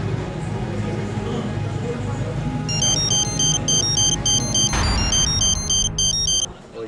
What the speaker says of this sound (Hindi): बार बार बजने वाले सेल फोन को